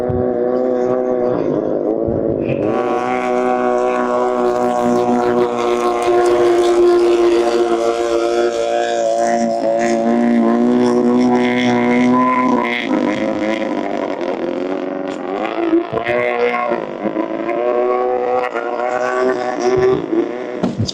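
A vintage outboard hydroplane racing boat roars past on the water at an exhibition race, a loud, continuous buzzing engine drone that holds steady and shifts pitch as it passes close by.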